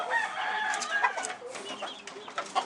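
Backyard chickens, including Colonel Gibbons and Kelso pullets, clucking and calling softly in a steady, busy chatter of overlapping short calls at moderate distance.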